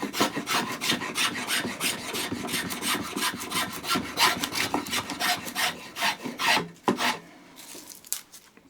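A metal-bodied spokeshave smooths wood between the joins in a fast run of rhythmic rasping strokes, close and steady, slowing to a few final passes before stopping, with no talk.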